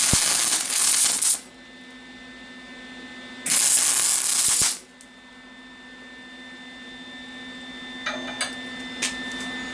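Tack welding on a steel frame: two loud crackling bursts of arc noise, each about a second long, separated by a quiet pause and followed by faint clinks and ticks, no talking.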